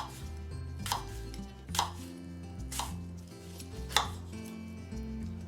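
An organic apple is chopped with a knife on a board, giving about five crisp, spaced cuts over a quiet background hum.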